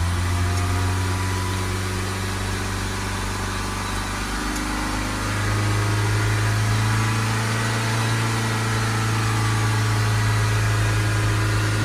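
A Toyota Proace 2.0 diesel van engine held at raised revs around 3,000 rpm, a steady loud drone with a constant hum that shifts slightly in pitch midway, alone without talk.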